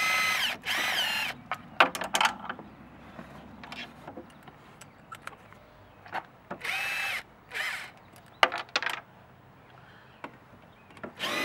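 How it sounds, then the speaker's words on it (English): A power driver whirs in repeated short bursts, backing screws out of the cover on a Can-Am Outlander 1000XT engine, with metallic clicks and handling noises between runs, close up and without talk. "just move the driver here and pull the screws out"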